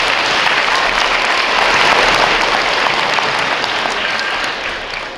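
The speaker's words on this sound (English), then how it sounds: "So let's give us a round of applause for being here." At a school anniversary celebration for the renovated Sayler Park School in Cincinnati, a crowd gives loud, sustained applause, steady and dense before tapering slightly at the end.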